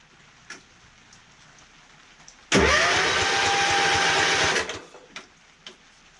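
A small Kohler engine with no spark cranks over in one loud, steady burst of about two seconds, with quiet ticks before and after.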